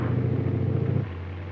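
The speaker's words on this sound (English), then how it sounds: "The LARC 5 matches or outperforms other vehicles in cross-country trials that include mud, sand, and other terrain." A 1961 US Army LARC 5 amphibious vehicle driving, heard as a loud, steady low engine rumble that eases slightly toward the end.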